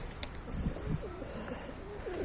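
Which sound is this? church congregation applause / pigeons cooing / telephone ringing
pigeons cooing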